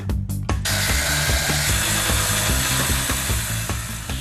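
Metal cutting and welding tools at work on a frame build, a continuous loud harsh grinding roar after a few sharp opening clanks, close and steady throughout with no talk.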